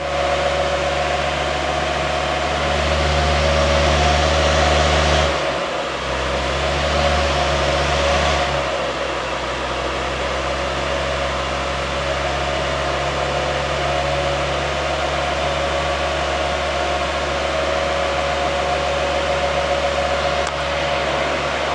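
A Land Rover Discovery Td5 diesel with a hybrid turbo, tuned by an unknown party, runs on a dyno while warming up. It gives a loud, steady mechanical drone with a constant hum throughout and no talking.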